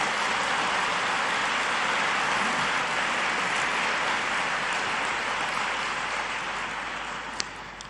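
Journalists applauding Pope Leo XIV at a media audience, a sustained dense wash of clapping from a large indoor crowd that holds steady for several seconds before slowly fading.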